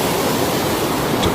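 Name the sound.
creek overflowing after typhoon heavy rain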